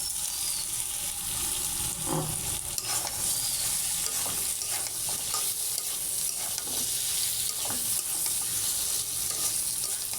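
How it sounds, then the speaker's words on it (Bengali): Soybean chunks drop into a pan of spiced masala frying in oil. A continuous, close sizzle runs throughout, with faint stirring and scraping sounds mixed in. "এখন আমি সয়াবিনগুলো দিয়ে দিচ্ছি"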